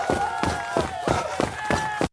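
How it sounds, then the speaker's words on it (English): Running shoes pound in a quick, steady rhythm of about three strides per second, loud and close, over a bright wash of crowd noise at a race, stopping abruptly after two seconds. "That was the sound of running shoes and the cheering crowd,"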